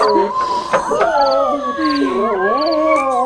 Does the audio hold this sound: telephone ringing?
no